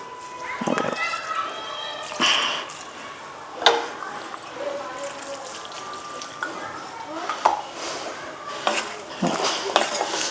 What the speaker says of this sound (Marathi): आता आपल्याला इथे थोडंसं पाणी घालायचं आहे